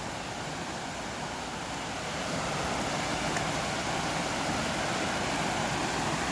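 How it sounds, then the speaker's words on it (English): The waterfall at McGalliard Falls Park gives a steady, broadband rushing roar that fills the whole stretch, growing slightly louder midway as the listener moves closer, with no voices. "We'll walk over here closer to the waterfall."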